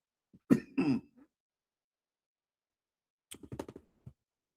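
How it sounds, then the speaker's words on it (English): A person coughing and clearing their throat in two separate bursts, a short pair of rough hacks followed after a pause by a cluster of smaller throat clears, close and fairly quiet with silence around them. "Trying not to cough."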